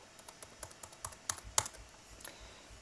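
Fingers tap out a short word on a computer keyboard, a quiet close run of light irregular clicks with a few sharper keystrokes and no talking.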